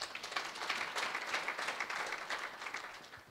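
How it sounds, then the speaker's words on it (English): A church audience claps their hands together, producing a steady, dense patter of applause that carries on for a few seconds at moderate volume with no one speaking. "Clap your hands."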